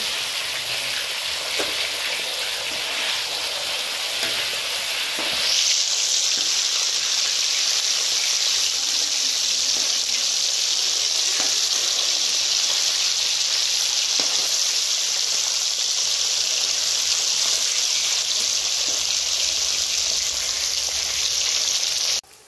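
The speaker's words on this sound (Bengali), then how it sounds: "মাছের পিসগুলো লাল লাল করে ভাজা হয়ে গেছে" Pieces of rohu fish fry in hot oil, giving a continuous crackling sizzle that turns brighter and louder partway through and then holds steady until the end.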